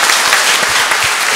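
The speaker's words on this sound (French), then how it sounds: "Applaudissez-vous," A church congregation breaks into applause during a Mass, dense steady clapping filling the space at close range, short and loud with no voices on top.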